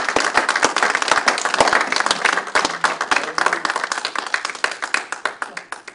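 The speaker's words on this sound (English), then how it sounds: "Give God a hand clap of praise." A church congregation claps in praise to God, a quick run of sharp, close handclaps that starts dense and thins toward the end into more distinct individual claps.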